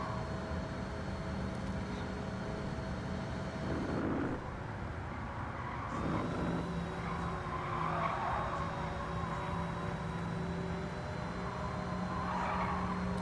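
A BMW i3 circles the Nürburgring in Gran Turismo 7, its electric drive a steady whine with tyre squeal and skidding across the lap, continuous and fairly loud without any talk.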